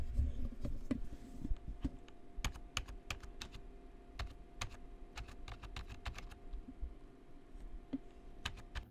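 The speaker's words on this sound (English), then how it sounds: "Wow, listen to those keys." Steady typing on a cheap gaming keyboard with quiet keys, a continuous run of close, light keystroke clicks over a low background hum.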